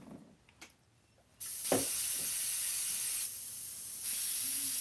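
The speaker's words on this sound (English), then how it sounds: "We want to spray." Paint spraying from an aerosol or spray rig while painting a volcano scene: after a quiet start, a steady, close, loud hiss kicks in and runs continuously to the end, dipping slightly partway through.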